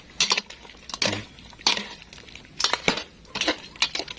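Turkey meat stew is stirred in a pot, with a spoon clinking and scraping against the metal in several distinct close strokes separated by short pauses.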